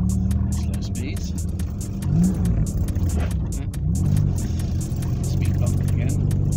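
A car with a repaired cracked cylinder head, engine block or intake drives slowly through town, its engine giving a steady low rumble with slight rises in revs, heard from inside the cabin while a person speaks.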